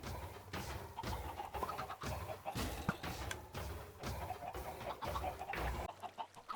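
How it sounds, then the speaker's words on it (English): Minecraft chickens cluck repeatedly in quick, irregular bursts, several birds close together and steady throughout without talk. "There's 3 chickens in there now."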